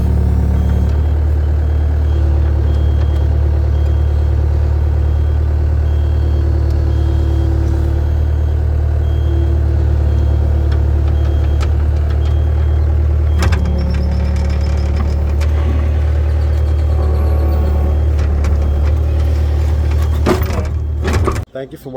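A Caterpillar skid steer loader with a low oil pressure fault light runs loud and close, its diesel engine droning steadily with a few clunks before it shuts down abruptly at the end.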